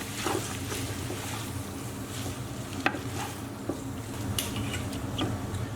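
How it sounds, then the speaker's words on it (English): A spoon stirring butter and crushed garlic through onions in a pot, close scraping and sizzling over a steady frying hiss, with a few sharp clinks against the pot. "I just want to stir that through"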